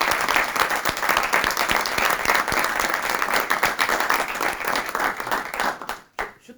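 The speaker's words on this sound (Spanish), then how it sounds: "un aplauso para ellos también que están organizando esto." Dense, loud crowd applause fills the room after an introductory quantum computing talk at a 2024 Science Month event, holding steady before quickly dying away near the end.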